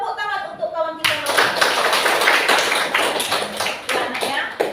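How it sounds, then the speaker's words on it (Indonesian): Classroom clapping for a student in a religious studies lesson, a group of children's hands clapping in a brisk, fairly rhythmic burst that starts abruptly after a voice and continues steadily. "Tepuk tangan untuk kawan kita."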